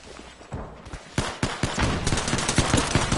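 Rapid bursts of video game gunfire crack out in quick succession, loud and near, with dense overlapping shots building into sustained firing.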